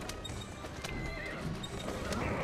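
A horse in Assassin's Creed Syndicate clip-clops at a gallop with neighing during a street race, steady hoofbeats under game noise, with no talking.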